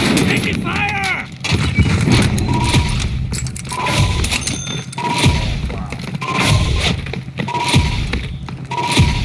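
Gunfire in Call of Duty Modern Warfare/Vanguard: repeated heavy shots and thuds run steadily through the scene, loud and close, mixed with voices.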